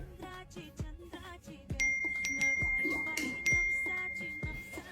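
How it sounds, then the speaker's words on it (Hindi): Several Instagram notification dings chime in quick succession on a phone, bright and clear, layered over background music, with no talk. "वो इंस्टाग्राम के नोटिफिकेशन आ रहे थे, मैं बंद कर देती हूँ."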